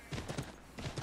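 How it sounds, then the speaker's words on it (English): Horse hooves in Assassin's Creed 3 clop along in a quick, even galloping rhythm, fairly soft, with no talk over them. "Took your horse. Go forth, Winston."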